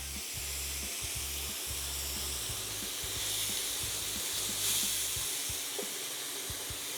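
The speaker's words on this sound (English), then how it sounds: "I have my grill pan nice and hot. We want to get a good sear on there." A marinated pork tenderloin sears on a hot grill pan, giving a steady close hiss and sizzle under a low hum, with no talking.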